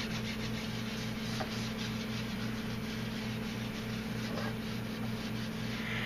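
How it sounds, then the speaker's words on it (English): A crafting work surface being wiped clean, soft rubbing and brushing strokes repeated close up over a low steady hum, with no talk. "I'm going to clean up my work surface because I don't want this on my tag"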